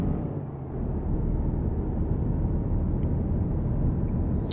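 Truck air brakes in the Euro Truck Simulator 2 video game release a loud, steady rushing hiss that lasts throughout, with a faint high whistle above it and no voices.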